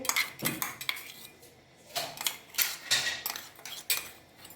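Roasted chillies and curry leaves are stirred in a metal kadai, producing repeated sharp scraping and clanking strokes in irregular bursts, close and fairly loud, with no talking.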